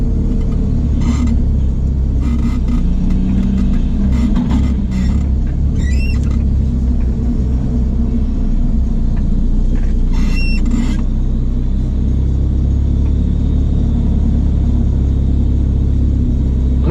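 A DSM car accelerates hard at a drag race: a loud, sustained engine and road rumble fills the whole stretch, with a few sharp squeals and chirps cutting in along the way.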